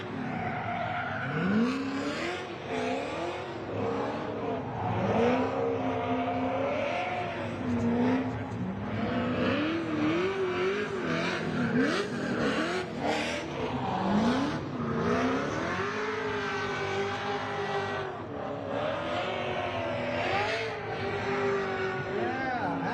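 At the SEMA Show, a car revs and skids with rising and falling engine howls and tire squeal, continuous over about twenty seconds, with crowd chatter and voices throughout.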